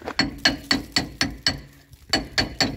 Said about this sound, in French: des fois moi je le prends avec le marteau, je tapote un petit peu